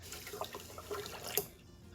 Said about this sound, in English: now we're ready to pour the tea into our pitcher